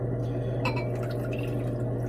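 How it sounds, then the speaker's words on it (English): Colloidal gold liquid pours into a container during gold recovery from gold-filled scrap, giving a soft, close splashing trickle over a steady low hum. "So I'm going to pour it in here"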